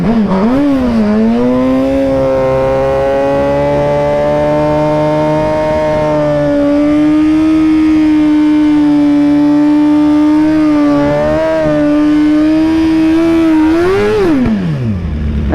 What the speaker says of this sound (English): A little excessive on the burnout, but we're just kind of breaking in the tire since it's brand new.